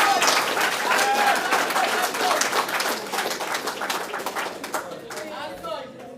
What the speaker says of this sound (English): Could we have another round of applause for Dr.